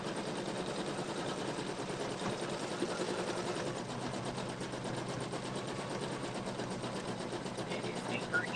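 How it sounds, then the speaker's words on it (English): A Swiss-made Bernina B79 embroidery and sewing machine runs steadily up close, its rapid, even stitching clatter going on without a break for the whole stretch. "It's a Swiss-made embroidery machine, embroidery slash sewing machine"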